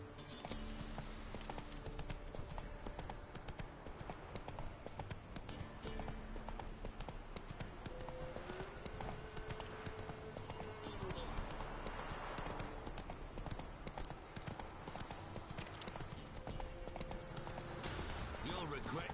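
Horse galloping in The Witcher 3, quick rhythmic hoofbeats clip-clopping continuously under game music and character talk, with a brief whinny-like tone partway through.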